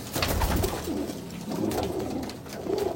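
Abluk pigeons, including Andhar Abluk and mechhia types, coo in a home loft, several low throaty coos overlapping close by over a rough background noise.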